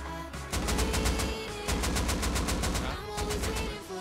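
Rapid automatic gunfire in the survival game Rust, two long loud bursts of evenly spaced shots with a brief pause between them, close and dominant.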